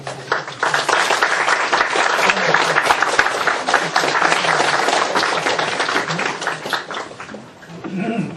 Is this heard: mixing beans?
no